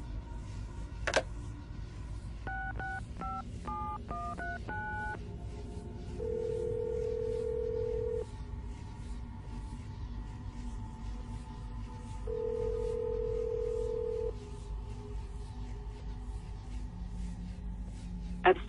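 In the Assassin's Creed Brotherhood video game, a phone is dialed: a quick burst of keypad tones is followed by two long, steady ringback tones separated by a pause, all over a low background hum.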